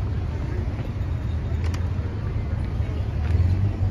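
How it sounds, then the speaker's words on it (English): Road traffic moves along a stretch of highway under construction in Chapala, a loud steady rumble and whoosh of passing vehicles with no break. "The traffic's moving pretty good"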